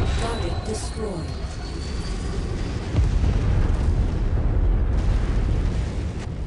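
A rumbling explosion as a destroyed mech blows apart in MechWarrior 5 on Jacomarle, a sustained loud roar with a heavier swell midway, under radio-style game voices.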